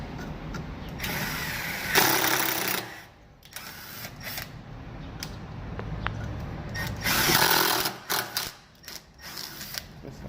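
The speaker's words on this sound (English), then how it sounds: "now I've got my Greenlee self-tapping drill bit." Greenlee self-tapping drill bit boring a hole while installing an open/locked indicator, with a steady power-drill whine broken by short pauses and two louder, denser bursts of cutting noise near the tool.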